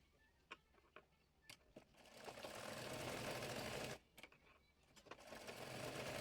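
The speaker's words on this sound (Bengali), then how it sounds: "নিচের কুচির কাপড়টি জয়েন্ট সেলাই দিয়ে নেব।" Sewing machine joining the lower gathered fabric piece of a baby top made from scrap cloth, running in two long loud bursts broken by a short stop, with a few isolated clicks of needle positioning before and between.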